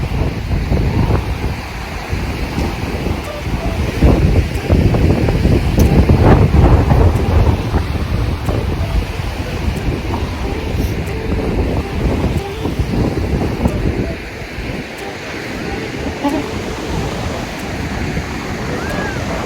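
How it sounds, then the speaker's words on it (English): Wind buffeting the microphone and waves washing onto a seaside beach, a loud continuous rush that swells and eases, with occasional faint speech beneath. "A little bit windy here, but it's nice."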